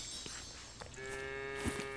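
A cow moos in the video game Lego Fortnite, giving a single long, tonal low call that rises out of ambient game background and holds near and clear for about a second, with no talking.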